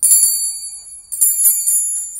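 A bright, high-pitched bell chime rings out, fading and then sounding again a second later, clear and close with no talking.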